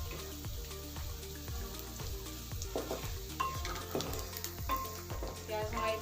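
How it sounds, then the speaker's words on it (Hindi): Onions sautéing in a spoonful of oil in a pan for a chicken pasta bake, a steady close sizzle with scraping stirs and faint background tones throughout. "अब इसको हल्के सा हम सौते कर लेंगे"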